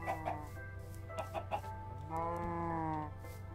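Chickens cluck in the Minecraft video game, a few short clucks and then a longer drawn-out cackle. The sound is clear and close, with no talk over it.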